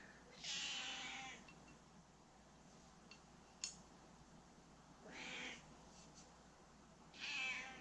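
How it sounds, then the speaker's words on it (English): A house cat meows indoors three times, long drawn-out cries spaced a couple of seconds apart, fairly close over a quiet room with a faint tap in between. "just with a cat walking around"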